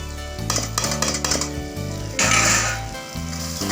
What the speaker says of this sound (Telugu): అల్లం వెల్లుల్లి పచ్చివాసన పోయినంత వరకు కూడా బాగా వేపాలండి